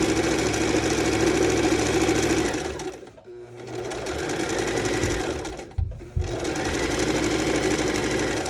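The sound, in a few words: sewing machine sewing a 1/4 inch seam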